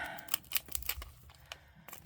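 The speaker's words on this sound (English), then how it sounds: "Let's go find some scissors." Scissors snip and slice through packing tape on a box in a series of quick, close, sharp cuts and crinkles, fairly quiet and with no one speaking.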